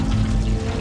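Water pours steadily and loudly at close range in a desert, a short continuous gush with no talk.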